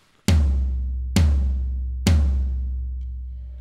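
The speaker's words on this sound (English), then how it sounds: "This big guy down here is called a floor tom." A floor tom drum is struck three times at a slow, even pace, each deep booming hit close and loud and left to ring out and decay.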